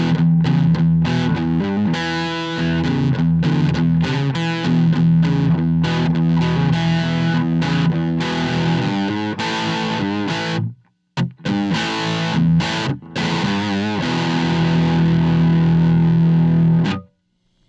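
Distorted electric guitar through an amp, miked directly on the speaker axis, plays loud, continuous chords and riffs with crisp pick attack and bright treble, briefly breaking off near the end before resuming.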